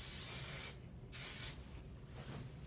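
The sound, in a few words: hairspray being sprayed on braided hair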